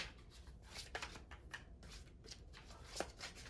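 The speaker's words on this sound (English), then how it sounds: "These are the worst cards to shuffle in the world." Tarot cards are shuffled close by in a quiet room, a soft papery riffle with faint ticks and flutters repeating over a few seconds.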